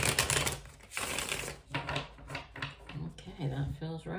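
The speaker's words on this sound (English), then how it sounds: "we will give the deck a few more shuffles" A tarot card deck being shuffled by hand, with repeated riffling and snapping bursts of cards under a continuous spoken voice throughout.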